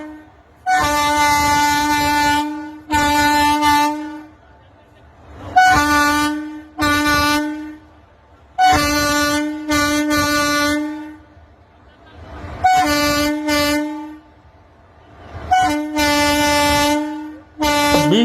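Freight train horn blaring near a railway gate in Bihar, sounded in repeated long loud blasts, roughly seven bursts with short gaps, close by and alone without talk.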